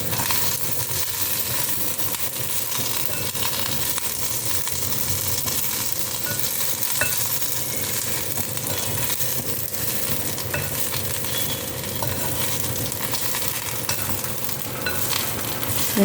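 Curry leaves frying in a pan for a thuvaiyal, a dense, continuous crackling sizzle held at an even loudness, close up and without any voices.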